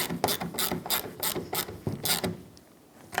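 Ratchet clicking in quick bursts while bolts are snugged down on a 2009-2014 Ford F-150 fuel filler pocket, several rapid runs of pawl clicks, close and fairly loud, ending with a short pause and a final click.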